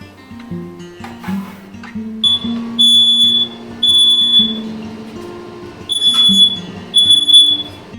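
A smoke alarm set off by a burnt pizza beeps in repeated high-pitched bursts over a busy background of clatter and music-like tones, loud and nearby.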